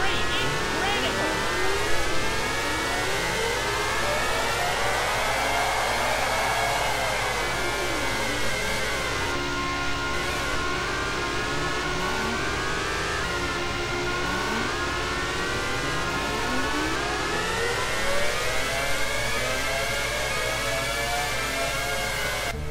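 Formula 1 race cars in the F1 98 video game starting the Monaco Grand Prix, a pack of high-pitched engines whining and rising in pitch together, loud and continuous, with a commentator's voice running over the noise.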